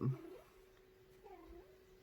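A pet cat gives a short soft meow at the start, followed by quiet low murmuring close by in a calm indoor room.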